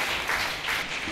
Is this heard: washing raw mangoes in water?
no